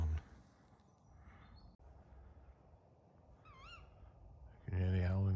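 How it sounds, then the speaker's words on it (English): A tawny owl in a tree gives a wavering hooting call at a campsite, heard faintly at a distance against quiet outdoor background. A louder wavering call follows near the end. "You can hear the owl in the tree,"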